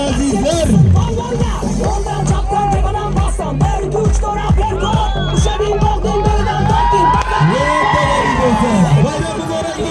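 A lively crowd at an award ceremony cheers, whoops and shouts, with excited voices and children calling out in a loud, continuous hubbub close by.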